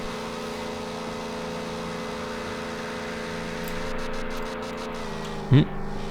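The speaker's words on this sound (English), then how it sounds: "just going to be tired of this engine noise" Steady low engine drone from a video game, an unchanging mid-pitched hum running the whole time with a single brief louder knock near the end.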